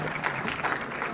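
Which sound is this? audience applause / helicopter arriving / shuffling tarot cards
audience applause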